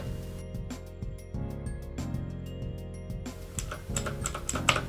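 Clicky blue switches on a Keychron K6 keyboard rattle out quick, crisp keystrokes in irregular bursts, close up over a faint steady hum, growing a little louder and busier toward the end.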